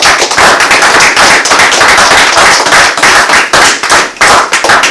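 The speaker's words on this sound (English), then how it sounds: "Give Almighty Yah another hand clap praise for that." A congregation at a Sabbath service gives a loud hand clap praise, with dense rhythmic clapping from many people, close and sustained.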